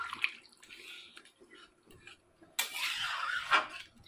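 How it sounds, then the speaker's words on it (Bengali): Hot water is poured into a pot of chicken curry made with yogurt and fenugreek, a brief splashing gush over soft kitchen clatter, close and fairly quiet. "গরম জলটা আমি করে রেখেছিলাম, গরম জলটা আমি দিয়ে দিলাম।"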